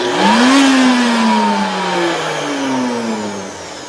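A Nutribullet Rx 1700 blender motor spinning up after its drive socket gear has been replaced, giving a loud, close whine that rises in pitch, then holds and wavers over about four seconds, with no voices.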